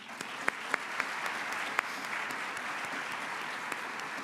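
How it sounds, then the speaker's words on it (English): An audience at a morning session of a Bloomberg CityLab conference in Mexico gives a round of applause after a dance performance, a steady dense patter with a few sharp nearby claps standing out, no voices. "Let's give another round of applause to the Expanded Memory Dance Project."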